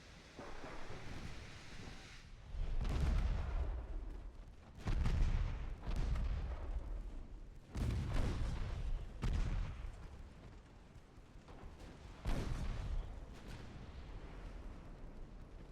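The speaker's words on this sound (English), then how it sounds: "Main guns only shoot at the battleship." Heavy naval main guns fire armor-piercing shells in a French Empire battleship engagement in Ultimate Admiral Dreadnoughts, several deep booming salvos at irregular intervals over a low rumbling background, loud and without speech.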